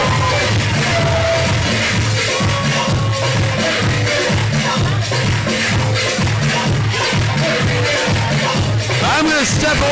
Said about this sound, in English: You listen to that crowd, they are going nuts for Johnny Rodriguez right now.